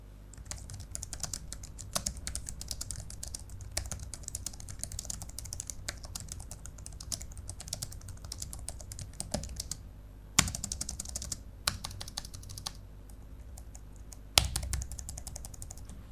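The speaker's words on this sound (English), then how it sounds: "after I show you a quick demo of a typing test that I did" Steady typing on a soft Logitech MX Keys Mini keyboard, a continuous patter of muffled key presses with a few brief pauses and louder taps.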